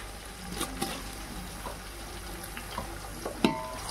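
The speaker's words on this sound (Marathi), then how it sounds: "आता त्याच्यामध्ये घालणार आहोत टोमॅटो" Tomatoes dropped into onion masala frying for chicken biryani give a soft, low crackle and sizzle, broken by a few faint clinks and stirring knocks, with no talking.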